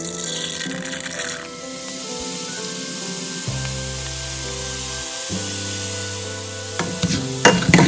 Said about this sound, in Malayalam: ഇതിനാണ് അരി വറുക്ക എന്ന് പറയാം.